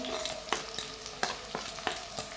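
Onions and garlic frying in a pan, a steady sizzle with a few sharp stirring scrapes at regular intervals, close and alone with no talk.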